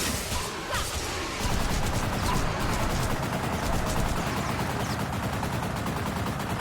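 Machine gun fire in the X-Blades video game: a dense, continuous burst of rapid shots kicks in after a brief quieter opening and hammers on loudly without pause to the end.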